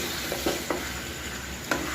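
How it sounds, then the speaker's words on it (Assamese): Steady sizzling of meat frying uncovered in a pan with coriander powder, with a few soft scraping stirs punctuating the constant hiss; no voices. "এতিয়া এই মাংসখিনি মই ঢাকনি নিদিয়াকৈ অকণমান সময় ভাজিম"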